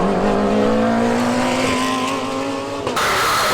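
Race cars lap a tight circuit, their engines howling loud and close in a steady, rising note that shifts sharply near the end as a car changes gear or pulls away.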